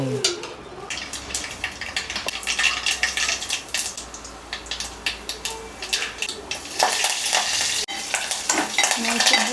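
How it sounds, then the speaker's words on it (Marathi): Spices for a Marathi-style tempering crackle and sizzle in hot oil while a spoon stirs and clinks against the pan, a busy, steady popping that swells louder toward the end. "हळूहळू फोडणी देते"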